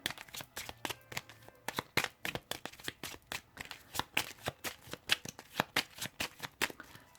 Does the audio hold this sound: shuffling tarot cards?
yes